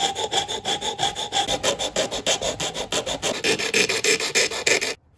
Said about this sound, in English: Now I'm going to start off fitting this by sanding this part of the keel down